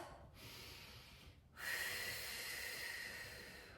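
Two breathy exhales through the nose and mouth during foam rolling of the upper shoulders, close and quiet, the second longer and stronger than the first.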